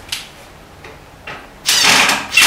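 Metal clamp clips being loosened on a wooden Shaker-style espresso base during assembly, heard as a few faint clicks followed by a louder, sustained scraping rattle near the end.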